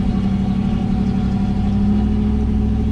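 A Camaro engine with a swapped Quadrajet carburetor idles steadily and close by after starting, a continuous low rumble with no voices.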